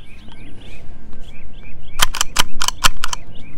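Cartridges being unloaded from a Springfield Model 187s .22 rifle, heard as a quick run of about six sharp metallic clicks close up, with faint bird calls in the background.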